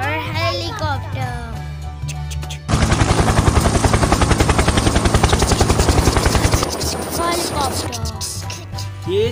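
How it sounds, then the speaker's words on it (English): A helicopter sound effect in a children's ABC phonics song: a loud, steady rotor chop lasting about four seconds, set between child-like spoken phrases with music underneath. "H for helicopter."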